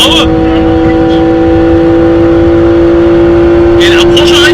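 A Porsche accelerating past on a road, heard as a loud, steady engine drone close by, with a brief rush of noise at the start and again near the end as it goes by.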